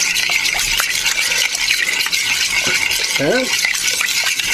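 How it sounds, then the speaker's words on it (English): Cheese is stirred into macaroni in a pot for creamy mac and cheese, making a continuous wet, thick churning and scraping close up, with a brief spoken word near the end. "we'll just give this a stir"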